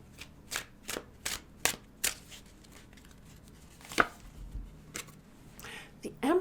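Tarot cards shuffled by hand in a quick series of crisp riffling bursts, about a dozen close, sharp flutters with brief pauses between them, with no one speaking.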